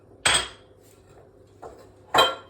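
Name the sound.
stirring TVP mixture with oil and maple syrup in a bowl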